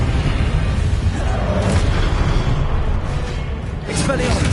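Explosive Confringo spell blast from Hogwarts Legacy, a dense roaring burst that fills the clip with heavy low rumble and crackling debris, a second surge near the end, loud and close with no talk.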